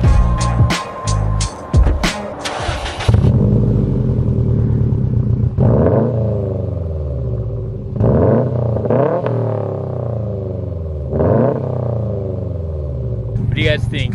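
A Subaru WRX STI engine with an aftermarket downpipe exhaust starts and revs several times, each rev rising sharply then falling back to a rumbling idle, close and loud.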